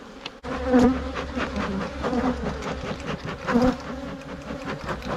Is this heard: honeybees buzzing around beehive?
yes